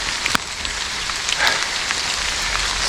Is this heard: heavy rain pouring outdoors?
yes